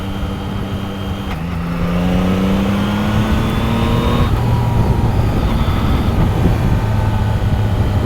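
A 2023 Yamaha MT-09 motorcycle accelerating hard, its engine note climbing steadily and dropping abruptly at quick shifter gear changes, loud and close with no talking.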